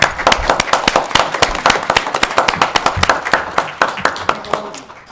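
Applause at a city commission meeting: a smaller group claps with sharp, distinct, close-up hand claps, and the sound thins out and fades over about five seconds.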